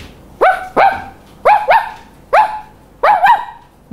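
A person imitates an angry dog with five loud, close, separate bark-like bursts, some doubled, spaced about a second apart, with no talk around them.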